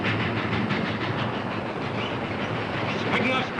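A special train bound for Dodge City rolls along the rails in a steady, dense rumble with rhythmic clatter, sounding close and continuous as it gathers speed.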